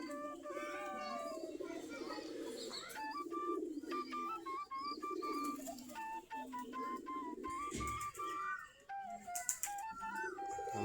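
Desi Giribaz pigeons in a loft coo in low, rolling murmurs while higher whistling calls and chirps repeat over them, a busy, fairly quiet flock with no one speaking.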